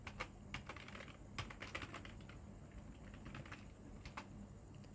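A computer keyboard is used to type a command, with a run of quick, light key clicks in an irregular rhythm, faint and close in a quiet room.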